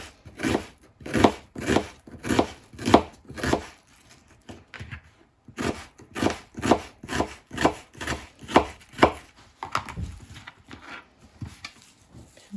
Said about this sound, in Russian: Значит, сначала я буду резать лук.